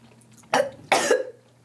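A person coughs after eating a cayenne-flavored jelly bean, two sharp close coughs in quick succession over a quiet background.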